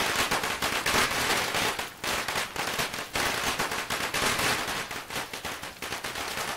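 Long string of firecrackers going off at a household celebration, a dense rapid crackle of loud pops with brief gaps, continuous and close throughout.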